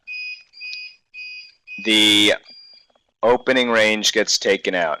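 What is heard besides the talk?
beeps signalling a power loss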